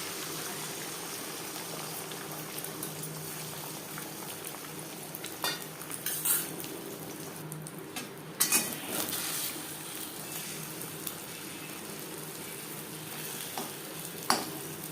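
Beaten egg batter frying in oil previously used for frying potatoes, a continuous sizzle with occasional louder scrapes and clinks of a utensil against the pan.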